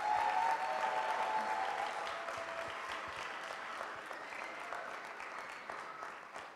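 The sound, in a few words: applause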